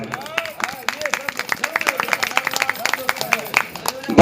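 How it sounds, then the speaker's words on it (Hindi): Audience at a Ramlila performance clapping for Lakshman, a steady patter of many hands at moderate distance with a murmur of crowd noise underneath. "लक्ष्मण के लिए एक बार सभी लोग जोरदार तालियां बजाएं।"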